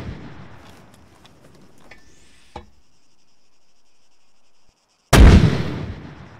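Mortar fired in a video game: a faint mechanical rattle and click, a brief silence, then one loud booming blast that decays over about a second, with no talking.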